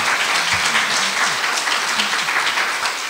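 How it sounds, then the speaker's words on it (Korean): A church congregation at a Sunday worship service claps in steady, dense applause for a newly married couple, the sound sustained and close throughout, with faint voices murmuring underneath. "한번 일어나시면 박수합시다."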